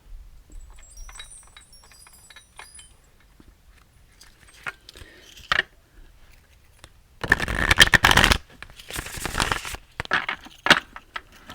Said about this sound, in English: I'm going to do a little bit of shuffling here on the table.